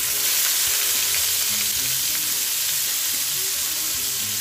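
Chopped onions fry in hot oil with a steady, loud, hissing sizzle that holds throughout without pause, close to the pan.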